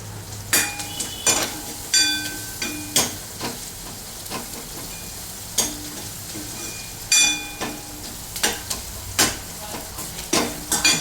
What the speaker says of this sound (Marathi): वरणाला फोडणी देणार आहोत.